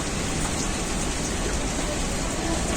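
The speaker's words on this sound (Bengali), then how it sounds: "আর কাকি বৃষ্টি হচ্ছে" Monsoon rain falling steadily and heavily, a dense continuous patter that fills the whole stretch at an even, loud level with no pauses and no voices.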